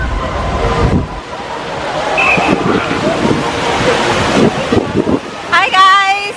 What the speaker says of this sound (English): Look how freaking windy it is.